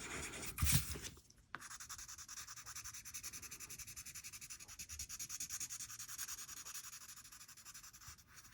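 Pencil shading on paper during a basic drawing lesson, a soft, steady rubbing and scratching texture that runs continuously close by, preceded by a brief louder scrape near the start.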